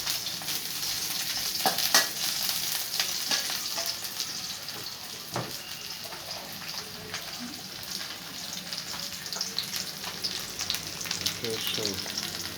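Food frying in a pan while being stirred, a steady close sizzle running throughout with occasional scraping and clicking from the stirring utensil, no voices.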